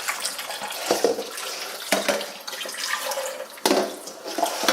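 Kitchen tap running into a sink to refill it with fresh water for rinsing cut chicken, a close, splashing stream with bursts of turbulence and sloshing as the water hits the basin.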